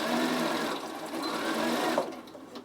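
A Bernina sewing machine runs steadily while stitching the joining seam of a fabric storage basket, a close, continuous motor whir with rapid needle rhythm that stops abruptly near the end.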